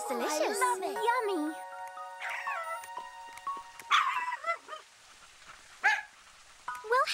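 A small cartoon puppy in an animated children's movie gives high whimpers and short yips in intermittent bursts, over light background music.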